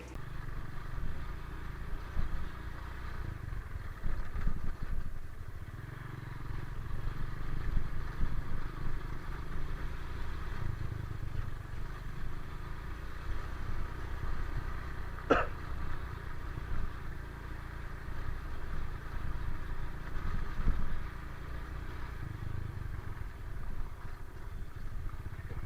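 A motorcycle ride captured on a BPRO 5 AE Mark 3S action camera gives a steady low rumble of engine and wind that runs the whole time, with one sharp click midway and no talk.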